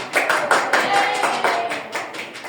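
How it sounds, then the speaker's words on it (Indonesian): A primary-school class claps for a group after its presentation, a steady rhythm of rather loud, close hand claps repeating about every half second, with no talking. "Berikan tepuk tangan."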